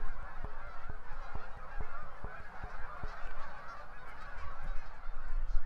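A flock of migrating geese honks continuously in flight, many overlapping calls at a distance, with a steady series of clicking taps early on.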